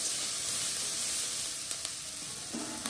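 Onions sizzle steadily in a hot pan with salt while cooking a Tamil intestine and blood stir-fry, a continuous close frying hiss with a few faint stirring clinks near the end.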